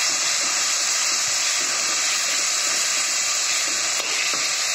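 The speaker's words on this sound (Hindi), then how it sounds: "डाल देंगे लहसुन को थोड़ा सा भून लिया।" Crushed garlic frying in hot oil in a pan, a steady loud hiss and sizzle running unbroken throughout with no talk.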